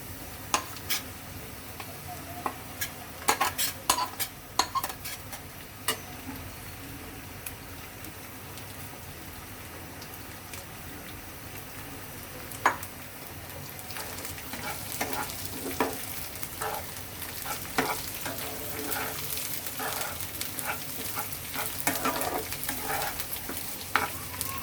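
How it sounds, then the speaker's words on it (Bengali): Onions fry in a pan with bay leaves and rice for bhuna khichuri, a close, even sizzle punctuated by sharp spoon-on-pan clacks and stirring scrapes, growing busier toward the end, with no talk. "পেঁয়াজ হালকা ভাজা হয়েছে।"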